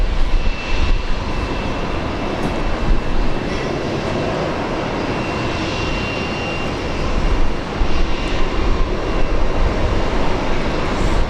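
A Qantas airliner takes off from runway 19 left at Brisbane International Airport in low visibility, its engines a loud, steady broadband roar that holds without a break throughout, with no voices.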